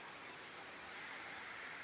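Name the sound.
rain falling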